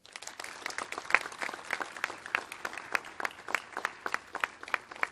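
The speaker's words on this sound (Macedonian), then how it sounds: "да ги поздравиме учесниците во Народно-ослободителната војна со голем аплауз" A crowd applauds at a state holiday ceremony for the Ilinden Day of the Republic in Skopje, honouring veterans of the National Liberation War. The clapping is sustained, dense and fairly close, with sharper individual claps standing out.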